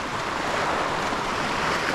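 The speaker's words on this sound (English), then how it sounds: "You're just always gonna wanna watch out for waves." Ocean surf washes against a rocky jetty at Half Moon Bay, a continuous broad roar of breaking waves and spray mixed with wind noise, loud and close with no voices.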